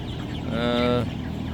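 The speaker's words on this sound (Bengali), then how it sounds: "এক হাজার মুরগি আছে" A single drawn-out cluck or squawk from a chicken among a thousand birds on a poultry farm sounds close and clear over a low background murmur of the flock.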